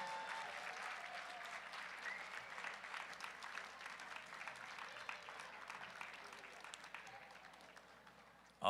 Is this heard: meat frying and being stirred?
no